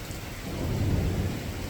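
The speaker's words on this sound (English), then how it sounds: "And I'm tired of getting rained on." Steady rain falling during a thunderstorm, a dense continuous wash with low rumbling underneath that swells slightly midway, with no voices.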